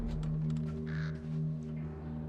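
Crows caw a few times against a low, steady ambient hum in the video game Thief (2014), the harsh calls fairly close and standing out briefly over the droning background.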